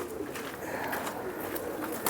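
A domestic racing pigeon, one of a champion flying family kept by a Jammu fancier, coos softly in low rolling calls, moderately close, over a steady background hiss.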